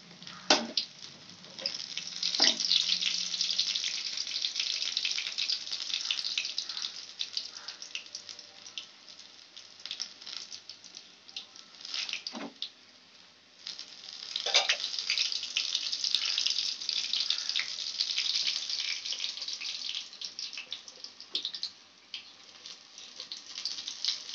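Cauliflower pakoras frying in hot oil, a soft steady bubbling sizzle with a few sharper crackles and clinks, fairly quiet and with no one talking.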